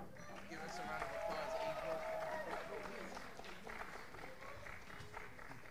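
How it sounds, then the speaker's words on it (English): Applause from a high school audience at a multicultural performance assembly, steady clapping with voices and cheers mixed in, lasting several seconds at moderate distance. "let's have another round of applause for them"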